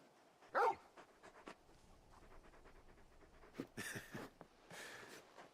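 A big dog in the video game Final Fantasy XVI pants in quick, breathy bursts nearby, with a sharp bark or yip near the start and scattered snuffling breaths afterward.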